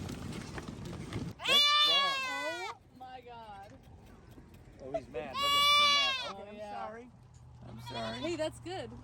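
Baby goats on a Texas ranch bleat in loud, wavering cries, two strong calls a few seconds apart followed by fainter bleats, close by and with no talk over them.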